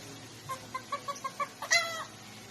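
A talking pet bird imitates a chicken, giving six quick, evenly spaced clucks followed by a longer, louder squawking cluck, close and clear in a quiet room.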